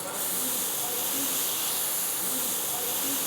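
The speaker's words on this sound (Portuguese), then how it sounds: "E agora nós vamos flambar o nosso magre de pato," Duck breast flambéed with cognac in a hot pan over a raised flame, a loud, steady rushing hiss and sizzle that runs unbroken throughout, close up.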